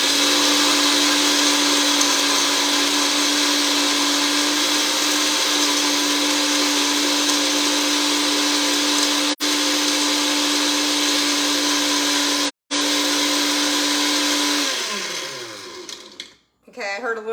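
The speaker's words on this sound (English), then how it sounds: "First, I'm going to crush the ice." A blender runs on high crushing ice for a breakfast smoothie, a loud, steady motor whine with grinding rattle that holds for many seconds, cuts out briefly twice, then winds down as the motor slows near the end.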